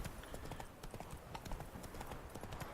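Horse hooves in The Witcher 3 clip-clop in a quick, steady galloping rhythm on the ground, fairly faint and even, with no talk.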